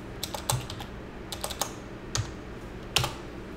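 Several light clicks of computer keys being pressed on a keyboard, coming in small irregular clusters with short pauses between them, close and fairly quiet with no talking.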